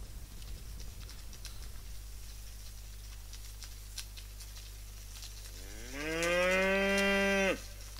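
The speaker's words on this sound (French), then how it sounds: "Ta gueule, la vache!" A cow in the video game Rising World lets out one loud, drawn-out moo near the end, rising over a steady low background hum.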